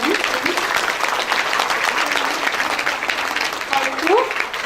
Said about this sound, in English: I request the audience to keep clapping for encouraging the students.